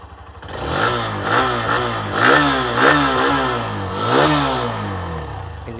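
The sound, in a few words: Hero Xtreme motorcycle engine starting and revving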